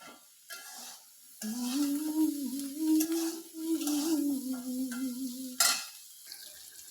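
Fish fries in a pan with a steady, fairly quiet sizzle lasting several seconds, with a faint tonal hum running through it and a brief clatter of utensils near the end.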